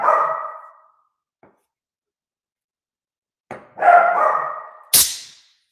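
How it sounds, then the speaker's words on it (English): Dogs barking in the background indoors, a few separate loud barks and yips with a short gap between them. "we have pups in the background"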